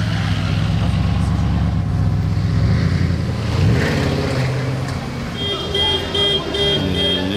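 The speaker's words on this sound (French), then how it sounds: "Il est bizarre le son de l'alarme de la Porsche. On dirait pas le vrai klaxon." A Porsche car alarm: a loud, wavering electronic horn tone blares steadily over a running engine, then shifts into a higher repeating pitch near the end.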